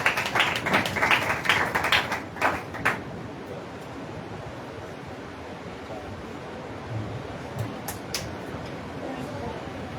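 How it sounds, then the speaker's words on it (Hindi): Congregation applauding at a Sunday church service, a burst of brisk clapping for the first few seconds that quickly fades into a few scattered claps and low room murmur. "आइए जोरदार तालियां परमेश्वर के दास के लिए"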